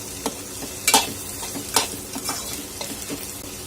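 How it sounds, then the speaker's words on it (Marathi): Okra and onions stir-fried over a high gas flame, giving a steady close sizzle broken by sharp scraping stirs of the spatula, several louder strokes spread through the clip, with no one talking. "इथे मी गॅस मोठा ठेवूनच भेंडी छान असं परतून घेते"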